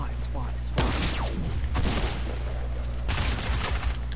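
Sniper rifle shots in a video game: three loud, sharp blasts spaced about a second or more apart, each with a booming tail over steady game background.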